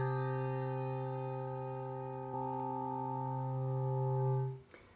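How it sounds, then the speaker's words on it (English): A large C3 handbell rings once with a deep, sustained tone rich in overtones, slowly fading over several seconds before being damped abruptly. "It's one of the biggest bells we have."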